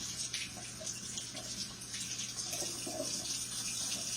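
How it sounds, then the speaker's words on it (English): Tap water runs steadily into a measuring cup to warm it in a home kitchen while yeast bread is being made, a continuous close splashing flow with no talk. "I'm going to warm it up just a little bit with this water"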